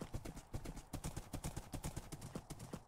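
Hooves clip-clop in a steady, rapid rhythm as a horse moves in a Minecraft-style survival game, loud and close throughout.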